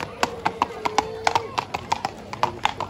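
A horse's hooves clip-clop at a steady, quick gait during a village festival procession on Lesbos, with crisp close hoof strikes repeating throughout and faint speech underneath.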